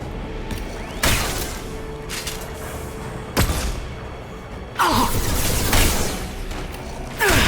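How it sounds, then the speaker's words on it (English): Mass Effect 2 combat in which flashbang grenades and gunfire produce several sharp bursts and booms spaced irregularly over a loud, busy battle background. "Watch out, flashbangs!"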